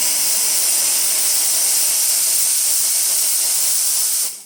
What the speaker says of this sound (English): So let's test the steamer. The steam one got really deep steam.